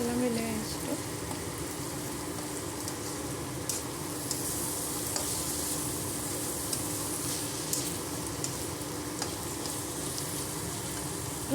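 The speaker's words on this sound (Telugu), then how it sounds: "అల్లం వెల్లి పేస్ట్ వేసుకుందామండి." Ginger garlic paste fries in a pan with a steady, crackling sizzle throughout, close and continuous, with no pauses.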